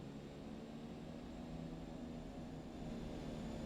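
Epic E1000 turboprop taxiing at idle in a flight simulator, a steady whining engine drone with a faint high tone, constant and moderately quiet, with no voices.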